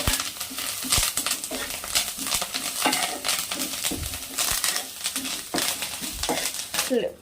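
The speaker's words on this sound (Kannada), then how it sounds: "ಅದನ್ನ ಹಾಕಿ ಅದನ್ನು ಅಷ್ಟೇ ಚೆನ್ನಾಗಿ ಚಟಪಟ ಚಟಪಟ ಅಂತ ಅದು ಚೆನ್ನಾಗಿ ಫ್ರೈ ಆಗಬೇಕು" Ingredients crackling and popping as they fry in a pan, irregular sharp crackles over a low sizzle, with stirring and clinks of utensils in between.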